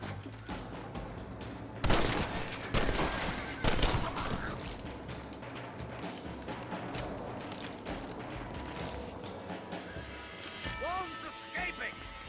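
Repeated gunshots in a Red Dead Redemption shootout near an outhouse, with several loud sharp cracks early on and scattered shots among dense background noise while voices talk.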